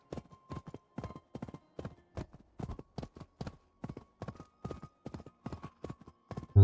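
Horse hooves clip-clopping at a steady gallop in Assassin's Creed Valhalla, a regular rhythm of sharp close hoofbeats with no talking.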